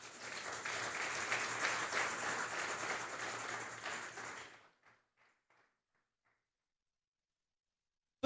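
A church congregation claps together in a dense, sustained round of applause that stops abruptly after about five seconds, leaving near silence.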